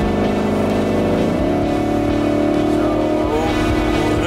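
A car engine at high revs, around 5000 rpm, drones loudly and steadily while accelerating at speed, its pitch stepping up once partway through.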